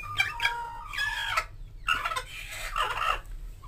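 A hen clucks and squawks repeatedly in agitated bursts, close up, as eggs are placed under her; no talk is audible over the calls.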